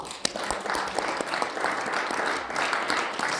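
A church congregation applauds together at a Sunday service, a dense, steady wash of many hands clapping that fills the room for the whole stretch without pause.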